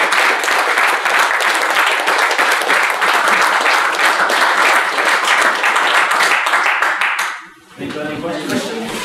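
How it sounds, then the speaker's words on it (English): Loud, sustained applause from a talk audience fills most of the clip, dense clapping that stops abruptly before a voice begins to speak. "a massive round of applause for"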